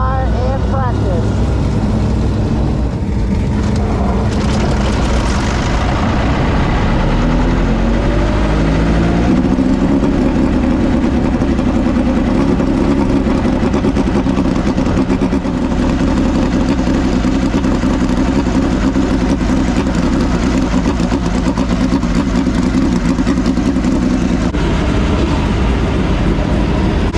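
A midget race car engine is fired up in the pits at Davenport Speedway, giving a loud, continuous mechanical roar that rises and holds steady throughout, with a voice talking over it.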